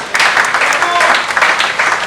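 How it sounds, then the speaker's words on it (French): An audience at a political gathering in Kinshasa breaks into loud, dense applause that continues throughout, with voices mixed in beneath the clapping. "qui est Félix Antoine Tshisekedi Tshilombo, que nous pouvons applaudir ici."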